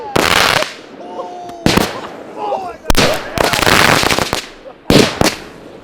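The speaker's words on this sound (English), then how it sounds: "we had a firework fall over on the ground and then fire off in" Fireworks that have tipped over on the ground fire off in every direction, giving several loud, sharp bursts and crackling pops in quick clusters, with fizzing between them.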